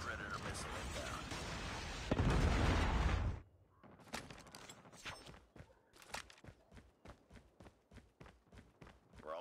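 A predator missile strike in Call of Duty Mobile arrives as a loud, dense roaring blast that lasts several seconds, then cuts away to quick, steady game footsteps and scattered lighter impacts.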